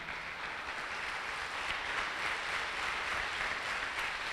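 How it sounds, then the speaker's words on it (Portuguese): Steady, dense applause from a church congregation, continuous and even throughout with no talking over it. "Você pode aplaudir o Senhor nesse momento?"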